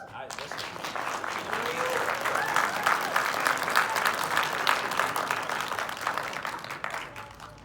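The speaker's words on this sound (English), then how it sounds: "give yourselves a round of applause" Audience at a theatrical film premiere applauding steadily, a dense wash of clapping with cheers and voices mixed in, holding at a fairly constant level throughout.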